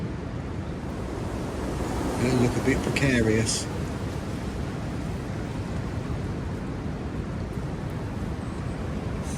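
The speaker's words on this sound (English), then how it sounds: "Really gusting big. It's blowing about 40 constant, and then every now and then you get this real big gust" Steady, heavy wind roar of about 40 mph with bigger gusts buffets the microphone throughout at a lakeside, swelling briefly as someone speaks a few words over it.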